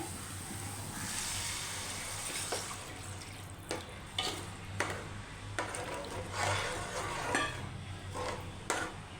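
Tamarind juice poured into a simmering pan of fish curry, a steady watery pour and gurgle with a low hum beneath and a few soft clinks and splashes along the way.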